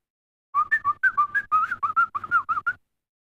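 A man whistles a quick string of about a dozen sharp, warbling notes in a lively rhythm, near and clear against silence, imitating a homecoming signal meant to summon his wife.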